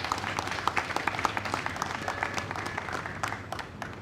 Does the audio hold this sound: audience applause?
yes